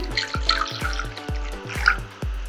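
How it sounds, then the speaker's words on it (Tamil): Water from a tumbler is poured into a bowl of almond gum pieces, giving a quick run of close, plopping splashes and drips at a steady, rapid rhythm, heard alone without talk. "இதில் ஒரு டம்ளர் தண்ணி ஊற்றுறேன்"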